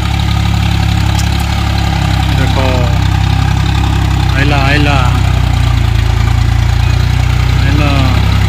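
Farm tractor engine idling loud and close, a constant low throbbing rumble running throughout while people talk over it.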